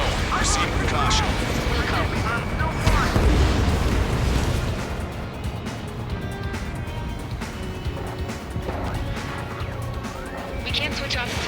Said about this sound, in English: Nobody got caught in that explosion.